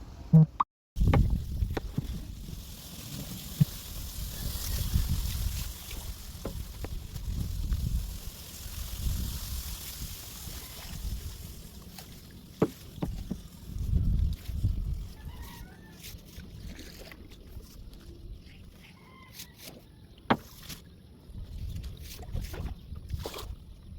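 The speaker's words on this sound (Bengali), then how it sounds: "আমরা এখন চলে যাব নৌকা নিয়ে বাড়ির উদ্দেশ্যে" A boat loaded with cut fodder grass moving across monsoon floodwater, a low continuous rumble and water wash with a few brief knocks and faint bird calls in the distance.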